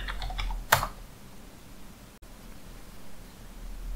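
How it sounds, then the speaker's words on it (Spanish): Quick keystrokes on a computer keyboard as a password is typed, a short soft cluster of clicks with one sharper tap, close and quiet over faint room hiss. "Introducimos ahora la contraseña."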